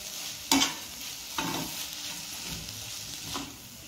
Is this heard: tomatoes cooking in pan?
yes